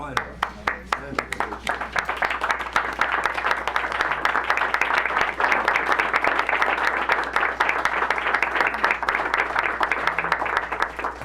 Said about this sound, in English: And I want to ask if you wouldn't mind giving them a standing round of applause.